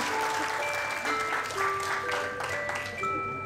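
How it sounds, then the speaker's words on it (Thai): Audience applause in a Thai talk setting, a moderate round of clapping with steady crackle throughout while sustained musical tones sound underneath. "ปรบมือให้หน่อยค่ะ"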